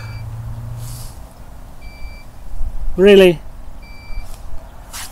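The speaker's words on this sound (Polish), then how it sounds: "Czy to zawsze musi pikać w tle?" A truck's reversing beeper sounds faintly in the background, with several short, evenly spaced beeps. A voice speaks briefly over a low outdoor hum.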